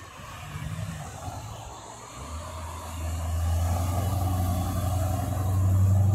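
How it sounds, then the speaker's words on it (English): A Chevrolet Corvette approaching along a road, its engine rumble building steadily from moderate to loud as it draws nearer and passes. "We have got a Corvette coming."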